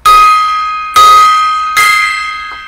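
A gong struck three times as a memorial salute, each loud metallic strike ringing out and decaying slowly before the next, evenly spaced and heard alone without talk.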